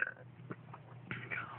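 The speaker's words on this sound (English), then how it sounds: "I do one loud burp." A single drawn-out human burp, fairly soft and close, with a brief rough croak at the start and a second swell near the end.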